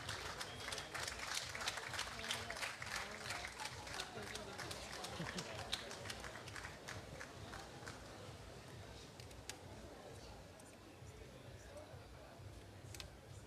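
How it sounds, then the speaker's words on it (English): Applause at the WSA Global Congress 2013 gala for Blind Square from Finland, quick clapping from the hall that thins out over its length, with faint voices underneath. "One last applause for Blind Square from Finland"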